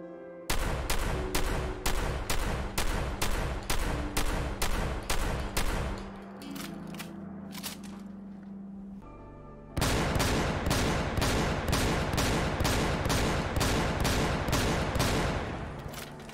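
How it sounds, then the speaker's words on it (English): Powerful combat shotgun shots from a Fallout 4 sound mod, a long rapid string of loud evenly spaced blasts, a short pause with reload clicks, then another fast volley of heavy booming fire. "replace the vanilla sound of the combat shotgun with something a bit more powerful, including both unsilenced and silenced, and this is what that's going to sound like"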